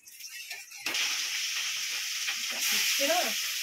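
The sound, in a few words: frying fish marinated in turmeric, chili powder and mustard oil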